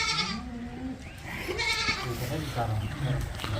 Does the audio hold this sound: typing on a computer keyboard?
no